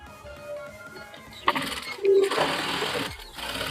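A sewing machine top-stitches a folded strip on a sleeveless princess-cut blouse, running in a short burst of whirring after a quieter start, close and moderately loud.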